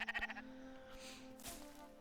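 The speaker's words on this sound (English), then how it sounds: "A sheep." A sheep bleat in the video game Spiritfarer, heard as a short wavering cry that fades into a soft tonal ambient game background, fairly quiet and alone.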